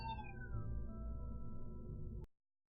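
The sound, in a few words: cat meowing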